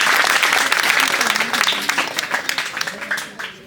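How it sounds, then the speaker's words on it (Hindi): Applause at a school award ceremony for twelfth-grade students, many hands clapping loudly at first, then thinning into scattered individual claps toward the end, with a voice talking faintly underneath. "तालियां भाई सभी। आप भी बजा दो।"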